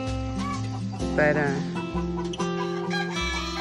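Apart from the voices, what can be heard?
chickens clucking in new enclosure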